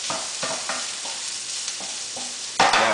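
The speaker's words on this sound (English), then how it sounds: "Now I'm gonna add the bacon." Three slices of turkey bacon sizzle in a hot pan, a steady close frying hiss broken by short stirring scrapes and a louder crackle near the end.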